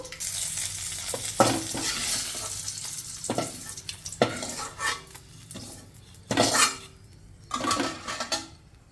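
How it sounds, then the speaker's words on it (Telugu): Green chili pieces fry in a pan with a steady sizzle, broken by repeated scrapes and clanks of a spatula stirring and tossing, close and fairly loud. "ఈ విధంగా వేగితే సరిపోతుంది పచ్చిమిరపకాయ ముక్కలు"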